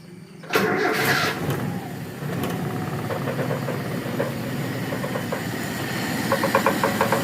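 A carburetted engine with a too-rich idle mixture catches after a sharp start, then settles into a rough, uneven idle with knocking pulses, close and fairly loud.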